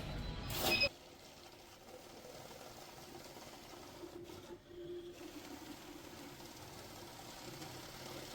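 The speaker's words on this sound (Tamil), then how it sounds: "இப்போ பாருங்கள் இது கவுண்ட் பண்ணுற எப்படி என்னதுன்னு பாருங்கள்" A battery-powered cash counting machine whirs steadily as it runs banknotes through, giving a quiet, continuous mechanical buzz with a brief louder burst at the start and no talking.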